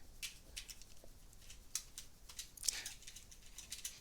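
Faint clicky keystrokes on a computer keyboard while typing code, with irregular light taps and a slightly sharper press standing out among them, quiet and close.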